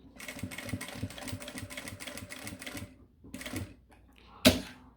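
A domestic sewing machine runs in a steady rapid burst of stitching along the edge of a small Luluzinha mini backpack, pauses briefly, resumes for a shorter run, then a sharp louder clack ends it; the machine is close and clear.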